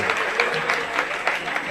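Applause from the audience at a Jain religious discourse gathering, a steady burst of clapping throughout with no voices over it.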